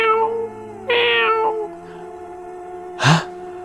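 A house cat meows several times at night in a quiet home, with drawn-out, wavering harmonic cries, one brighter sharp call in the middle and a short higher yowl near the end, close and clear with no talking.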